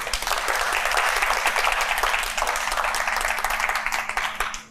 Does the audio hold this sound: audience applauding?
yes